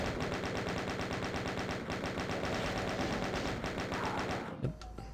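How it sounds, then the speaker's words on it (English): A chain gun fires in the Doom video game as a rapid, steady stream of mechanical gunshots for about four and a half seconds, loud and continuous, then cuts off into brief quieter game sounds. "I think we'll just chain gun this guy down."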